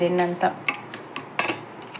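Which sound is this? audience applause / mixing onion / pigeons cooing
mixing onion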